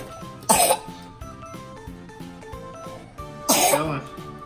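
Two sharp, loud coughs from a child, spaced a few seconds apart, near a gingerbread house being built, over a steady bed of quiet background music.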